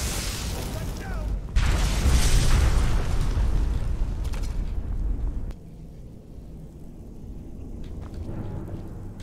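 Fire Atronach explosions in the game Skyrim, a dense booming roar with crackling bursts that rumbles for several seconds, then drops to a quieter hiss with faint scattered pops.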